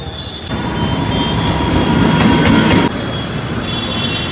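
A train rumbles through a railway station in Bangalore, a loud, steady clatter of wheels with a high metallic whine that swells and then drops to a lower roar.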